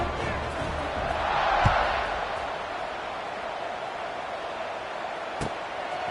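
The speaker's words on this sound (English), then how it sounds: "this crowd is buzzing after that last score" A football stadium crowd buzzes after a score in a BYU college football game, a broad continuous roar that swells briefly and then holds steady, with a couple of sharp thuds.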